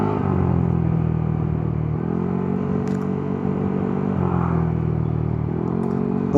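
A year-old motorcycle with about 13,000 kilometers on it hums steadily while riding on a lunch trip to Pola, Oriental Mindoro, its engine note rising and dipping with gear changes and some wind rumble.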